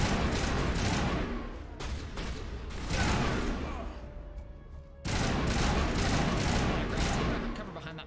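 Rapid gunfire in the Mass Effect video game, dense bursts of shots that are loud and continuous, broken by a brief lull before the shooting resumes.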